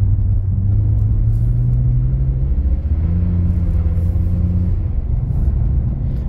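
A BMW E46 rear-wheel-drive car drifting in snow gives a steady, close, low engine rumble that holds continuously with only slight swells in pitch.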